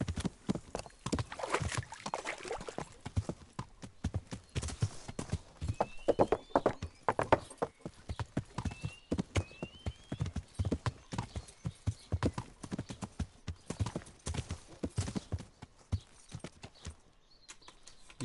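Horse hooves clip-clopping steadily in the medieval video game Kingdom Come, a dense rhythmic run of close, crisp hoof strikes lasting throughout, with a brief whinny and no talk over it.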